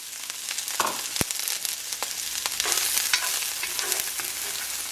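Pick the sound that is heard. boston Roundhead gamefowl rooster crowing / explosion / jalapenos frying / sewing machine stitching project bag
jalapenos frying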